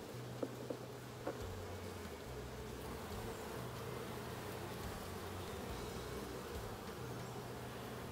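Buckfast honey bees swarm over a winter brood frame, their dense, even buzzing filling the air close by and continuous throughout, with a couple of faint taps early on.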